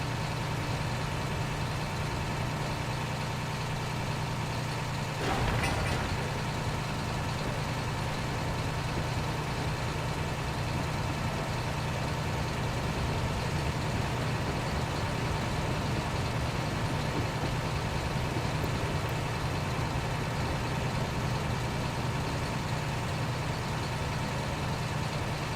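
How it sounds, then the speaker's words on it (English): A sewage truck's engine runs steadily nearby in a desert setting, a continuous low idling rumble that holds for the whole stretch with one brief knock partway through. "Who's that damn truck? We must be near that sewage truck."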